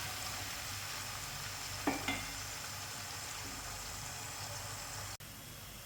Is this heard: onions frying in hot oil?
yes